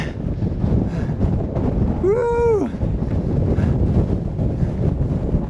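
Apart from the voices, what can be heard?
wind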